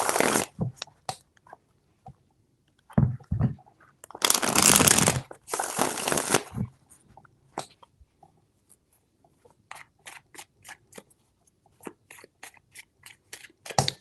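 Tarot cards being shuffled by hand, several bursts of riffling and fluttering close up with pauses between, plus scattered taps and clicks of handling the deck.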